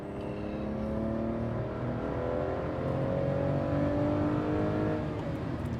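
A 2003 Aston Martin DB7 Vantage Zagato coupe engine revs up through the gears, pitch rising and falling with each shift, a steady close-up drone from inside the vehicle.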